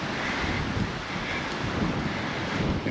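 Strong seaside wind at Palmanova, Mallorca buffets the microphone in a continuous, loud roar with surf-like rushing underneath, steady throughout with no speech.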